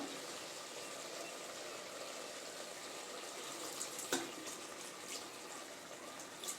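Water poured from a vessel into a pot of mutton curry before pressure cooking, a steady soft splashing pour lasting several seconds at close range with no talk.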